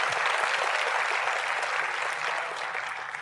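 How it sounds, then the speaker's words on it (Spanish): Sustained audience applause at a church teaching session, a dense steady wash of many hands clapping at even loudness throughout, easing slightly toward the end, with no talk over it. "Podéis aplaudir, por favor."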